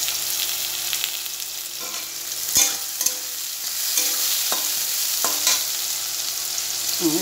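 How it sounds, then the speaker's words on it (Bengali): Ridge gourd fries in a pan with a steady, close sizzle, and a utensil stirs and scrapes it in short, irregular strokes. No one speaks. "ঝিঙে আলু পোস্ত একটু লাল লাল করে ঝিঙেটা ভেজে নিয়ে তারপরে আলুটা দিয়ে দেবো।"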